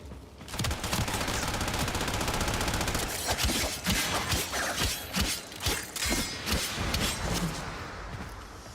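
Rapid video game gunfire from Warframe, a dense continuous barrage of shots with sharp cracks and bursts running nearly the whole stretch, loud and close with no voices.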